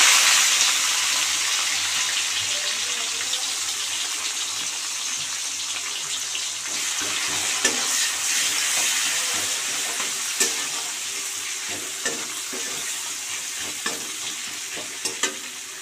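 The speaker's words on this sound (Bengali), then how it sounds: "এবারে আমি কড়াইয়ে দিয়ে দেবো পেঁয়াজ কুচি।" Chopped onions fry in oil in a kadai, a continuous close sizzle with occasional spatters and clinking stirs growing more frequent toward the end.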